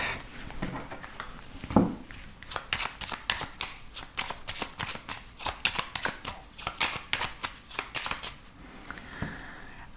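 A 32-card deck of playing cards being shuffled up close, with a steady run of crisp riffling flutters and card slaps, sounding alone without talk.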